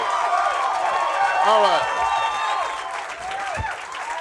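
Live comedy-club crowd applauding and cheering for a comedian, a dense steady roar of clapping that thins slightly toward the end, with the comedian speaking briefly over it.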